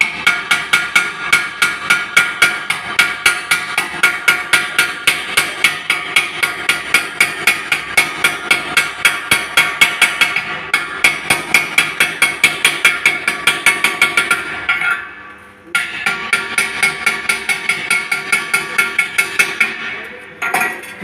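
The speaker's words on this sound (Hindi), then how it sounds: "तो स्लैग को हम अपने अपोजिट साइड ही हटाएंगे, क्योंकि ये भी गर्म होता है।" A hammer chips slag off a fresh arc-welding bead in a workshop, striking in a fast, even series of sharp metallic clinks. The blows are loud and close, with one brief pause partway through before the hammering picks up again.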